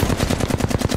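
Automatic gunfire in the battle royale game Apex Legends, a fast loud burst of about a dozen closely spaced shots over roughly a second, with no talking.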